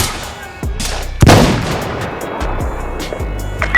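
Loud close gunshots from the video game Insurgency Sandstorm, with several sharp reports and a heavy boom followed by ringing decay and scattered further shots.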